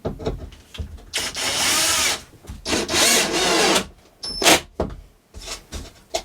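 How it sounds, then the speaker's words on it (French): A power drill drives screws into a wooden board inside a caravan, several loud whirring bursts of a second or two separated by short pauses and small clicks. "La planche, elle va se visser là."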